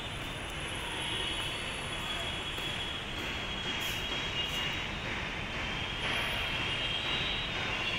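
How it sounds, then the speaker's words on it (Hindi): A train pulls into Jaitala Road station in Nagpur, a loud, continuous rumble of wheels on rails with faint high squeals, heard close by and steady throughout. "चलिए फ्रेंड्स हमारी ट्रेन आ गई है"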